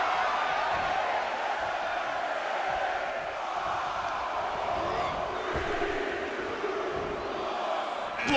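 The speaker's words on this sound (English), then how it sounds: "Just listen to the crowd." A virtual arena crowd in the WWE 2K22 wrestling game roars and cheers continuously during a ten-man rumble featuring Rob Van Dam, with loud swelling crowd noise throughout.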